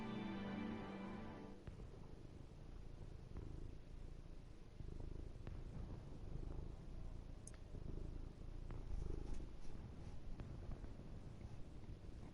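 A pet cat purrs close by in a steady, continuous low rumble lasting throughout, with faint rustling over it and no talking.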